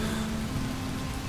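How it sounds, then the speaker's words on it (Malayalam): Heavy rain falling outside as a dense, steady hiss with no gaps, heard alone and fairly close. "പുറത്ത് പുറത്ത് നല്ല മഴ പെയ്യുന്നുണ്ട്"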